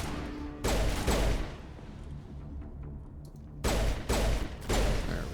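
Gunfire in the Mass Effect video game comes in dense, loud bursts of rapid shots with quieter gaps between, and no talk over it.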